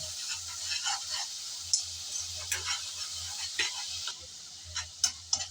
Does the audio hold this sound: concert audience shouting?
no